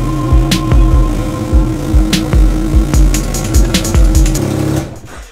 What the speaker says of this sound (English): we're gonna put it in reverse because we're gonna go backwards